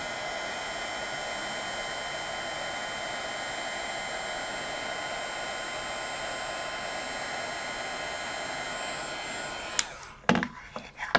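A steady, loud whir from a heat tool blowing hot air to melt gold embossing powder on a flower card, running unbroken for about ten seconds before switching off with a few clatters.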